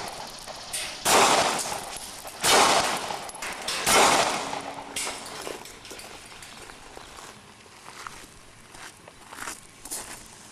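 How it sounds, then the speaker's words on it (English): A Glock 9mm semi-automatic pistol fires at an outdoor shooting session, a few sharp, loud reports a second or so apart that ring out and decay, then quieter handling sounds. "It's a Glock automatic, semi-automatic, 9mm."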